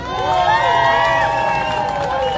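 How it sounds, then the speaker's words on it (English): A crowd in Parliament Square cheers for Lucia with loud, overlapping whoops and shouts that rise and fall for a couple of seconds, close and lively, with little clapping. "Guys, can we give a round of applause to Lucia?"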